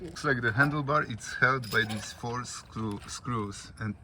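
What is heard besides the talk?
No everyday noise stands out behind the speech.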